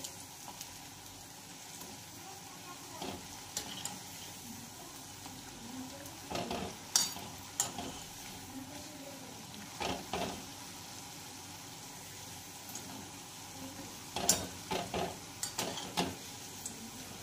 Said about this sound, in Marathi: सर्व गुलाबजामुन तळून घेऊया